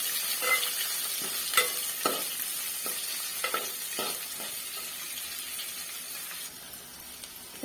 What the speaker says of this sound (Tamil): இப்போ நம்ம இதை நல்லா கிளறி விட்டுலாம்.